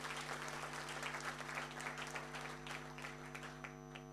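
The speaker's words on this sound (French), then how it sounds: "Applaudissez pour ce monsieur" A room of guests at an anniversary celebration in Cameroon claps for an honoured visitor, a sustained, fairly faint wash of applause with a steady hum underneath.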